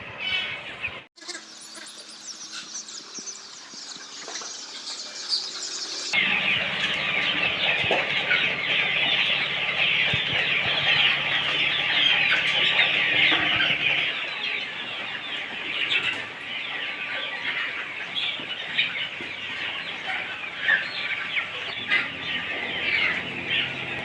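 A dense flock of around a thousand chickens at a poultry farm clucks and chatters continuously and loudly, with occasional wing flaps and shifting crowd noise throughout.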